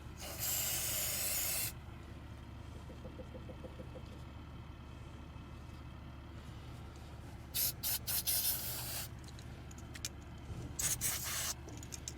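An aerosol can sprays electrical cleaner in a shop, with a loud hissing burst at the start, a quieter stretch, then several short sharp spray bursts near the end, close by and without talk.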